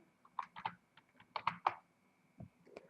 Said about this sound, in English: Then we type in the name of the country